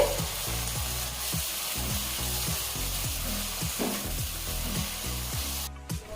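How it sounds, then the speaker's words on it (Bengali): Spices frying in oil in a pan for a kohlrabi and potato dum, loud continuous sizzling and crackling with repeated stirring scrapes heard close up, without speech. "মশলাগুলো ভালো করে কষানো হয়ে গেছে মশলা থেকে তেল ছেড়ে গেছে"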